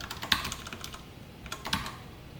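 A computer keyboard is typed on while entering JavaScript code, with short clusters of close, crisp keystrokes and pauses in between.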